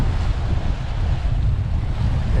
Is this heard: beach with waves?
yes